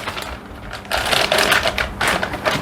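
Plastic packaging crinkles and rustles as it is peeled off a large matte-finish helicopter canopy from a SAB Goblin Raw 580 kit, the crackling growing louder and denser partway through, close and alone without voices.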